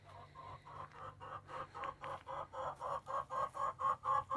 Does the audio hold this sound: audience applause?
no